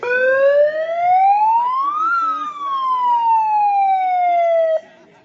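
A single wailing siren rises in pitch, then slowly falls, loud and close, at an outdoor street protest, cutting off abruptly just before the end.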